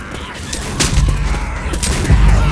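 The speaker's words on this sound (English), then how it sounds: "Stop shooting me!" Loud gunfire in Left 4 Dead 2 comes in several rapid, close bursts with heavy low thumps and crackling shots over a noisy, busy background.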